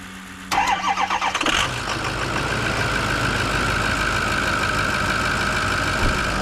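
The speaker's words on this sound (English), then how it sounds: "let's fire it up with the new batteries" A Ford 6.0 Power Stroke diesel truck engine cranks with a quick rhythmic starter chug, fires within about a second, then settles into a loud, steady close idle with a whining tone.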